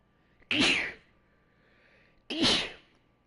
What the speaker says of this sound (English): Sneeze now, hold on.